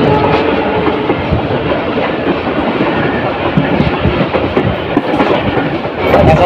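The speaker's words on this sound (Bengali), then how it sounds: "সামনের দিক থেকে আরো একটি ট্রেন আসছে" Sirajganj Express from Dhaka toward Sirajganj rolls past near Dhaka's Airport railway station, a loud continuous rumble with clickety-clack of wheels over rail joints throughout, heard from a passing train.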